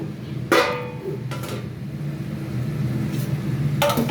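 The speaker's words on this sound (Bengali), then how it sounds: "এবার ঢাকনা খুলে দেখি" A metal lid comes off a cooking pot with a sharp clatter, followed by a few lighter clinks of metal against metal over a low background hum.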